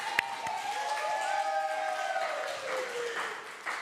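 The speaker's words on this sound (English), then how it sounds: "clap, everyone, clap Caleb." Crowd clapping steadily for award recipients at a fifth anniversary celebration, a continuous moderate wash of applause with a faint tonal whistle running through it.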